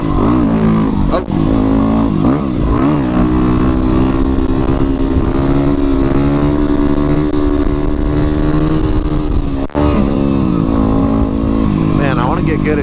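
A Yamaha WR250R supermoto motorcycle engine droning loudly and steadily close by as the rider pulls wheelies on a scenic road, with the rider talking over the engine throughout.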